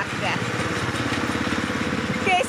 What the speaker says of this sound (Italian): Che stile, tutto tuo col trattore.